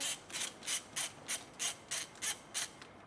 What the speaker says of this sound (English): we'll be undoing these bolts around here to take this rear housing off